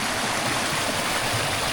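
A rocky river stream flows steadily nearby, its dense broadband rush and gurgle continuous and fairly loud throughout, with no voices over it.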